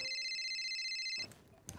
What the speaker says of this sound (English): Your phone they ring, you know.